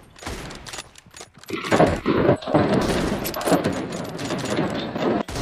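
Rapid bursts of M24 rifle gunfire in a team deathmatch video game crackle in quick succession, dense and loud, with brief pauses between volleys and faint voices underneath.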